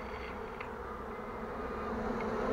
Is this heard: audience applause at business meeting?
no